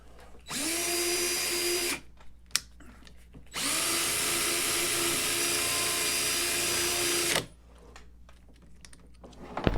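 A power drill spinning a Scotch-Brite pad whirs in two long bursts with a steady high whine, a short gap and a sharp knock between them, then quiet handling noise.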